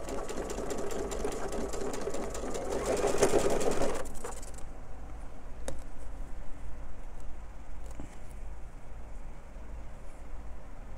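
A sewing machine runs steadily while stitching small fabric pieces for quilt piecing with a scant quarter-inch seam, loud at first and then quieter with faint clicks.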